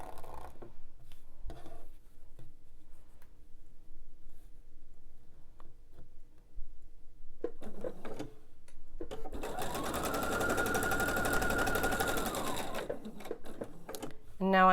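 A sewing machine stitches quilt pieces for a table runner, chain-piecing onto a leader-ender scrap, running in a steady, loud burst of rapid needle clatter for a few seconds after quieter handling sounds.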